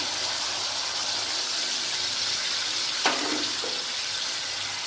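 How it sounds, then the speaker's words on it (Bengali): Raw milk pours into a pan of pointed gourd (potol) curry, giving a brief gush and splash against a steady background hiss with no talk. "এবার আমি এর মধ্যে দেবো কাঁচা দুধ"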